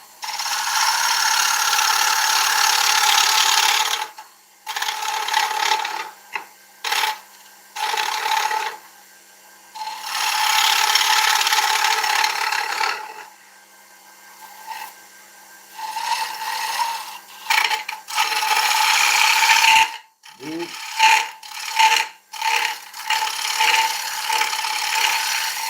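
An oak bowl is sanded on a wood lathe, making close, loud abrasive rubbing in long rasping stretches broken by brief pauses and a few knocks.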